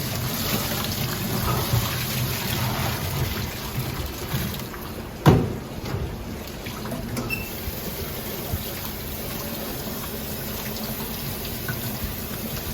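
Potatoes fermented five days in a 2% brine are rinsed under steady running water, a continuous broadband rush that stays fairly even throughout, with one brief louder knock near the middle.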